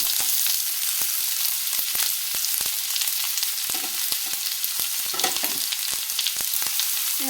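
Sliced onion and garlic frying in hot oil in a pan, a loud continuous sizzle with repeated clicks and scrapes as the mixture is stirred.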